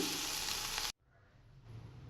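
Spices frying on a low flame for coriander puliyogare, a bright, close sizzle that cuts off abruptly, leaving a faint quiet hiss of the pan.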